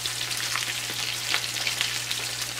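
Chicken legs frying in a pot, a steady hot sizzle with crackling pops running throughout, close and continuous with no talking.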